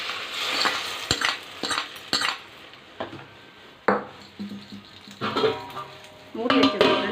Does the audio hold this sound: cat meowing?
no